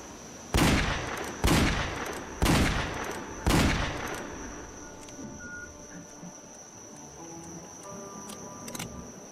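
Four sharp gunshots ring out at an even pace at a bison in a Wild West video game, each with a short decaying tail, followed by quieter ambient game sounds.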